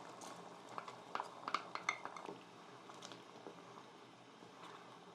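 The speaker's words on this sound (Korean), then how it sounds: "이렇게 다시 물이 끓어오르면 양파와 당근 넣어줄게요" Onion and carrot tipped into boiling kelp broth, a cluster of light clinks and clatters from a utensil against a pot, then quieter bubbling and stirring, close and soft.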